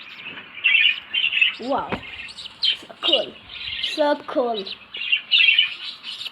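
Pet birds in a home chirp and tweet in quick, bright bursts throughout, fairly close, while people talk over them with excited remarks.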